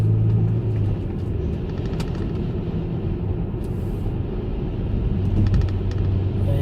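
An MG ZT 190 SE car driving on the road, heard from inside the cabin as a steady low engine and road rumble, smooth and even, with no talking.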